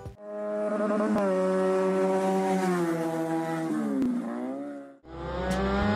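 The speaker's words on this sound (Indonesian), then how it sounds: "Motor Benelli memiliki suara kayak gini." A Benelli two-cylinder motorcycle engine revs hard and holds a loud, sustained wail with a smooth, multi-cylinder-like tone, dipping briefly before climbing again near the end.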